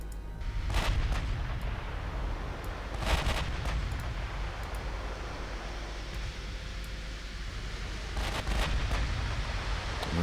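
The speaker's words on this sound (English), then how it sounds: "My ships are firing HE." Warship guns firing HE shells in Ultimate Admiral Dreadnoughts, heard as several deep booming salvos a few seconds apart over a continuous rumbling naval battle backdrop.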